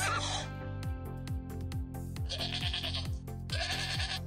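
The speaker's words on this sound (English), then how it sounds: "Goat." A goat bleats on a farm in a series of clear, repeated calls over a steady background, loud and close, with no talking.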